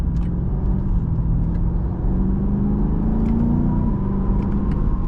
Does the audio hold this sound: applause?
no